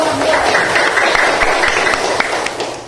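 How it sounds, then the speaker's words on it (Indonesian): A small group claps in a quick patter of applause, fairly close, tapering off slightly toward the end. "Iya, tepuk tangan dulu."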